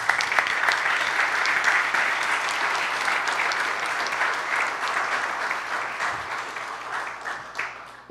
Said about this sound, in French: c'est de leur dire merci, mais avec un salve d'applaudissements